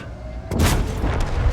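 A German E 50 tank's cannon firing in a video game, one sudden heavy boom that cuts in mid-clip and rolls on as a long, loud rumbling tail.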